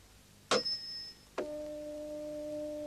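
Two strikes of a tuning fork, each a sharp attack followed by a clear, steady pure tone; the first rings briefly and high, the second sustains a lower hum to the end, close and alone with no talk.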